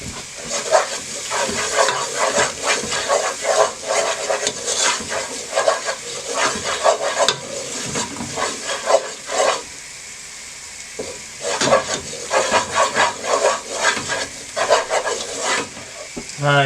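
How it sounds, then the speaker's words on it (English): Onions for French onion soup, with three shots of brandy stirred in and brought to the boil, give a loud, continuous sizzle and bubbling with repeated stirring scrapes close by. "you want 3 shots of brandy, and mix it and bring it to the boil and let the brandy disappear"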